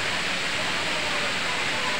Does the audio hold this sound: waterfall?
yes